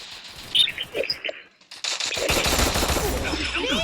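Video game gunfire in a competitive shooter match: a few faint chirps and taps, a brief lull, then sustained rapid automatic bursts that grow loud and dense to the end.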